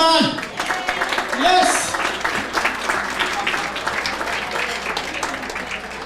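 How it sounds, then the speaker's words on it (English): An audience at a sports hall of fame induction dinner applauds for an inductee, dense clapping filling the room throughout, with a voice briefly speaking over it. "Big round of applause for Donnie, come on."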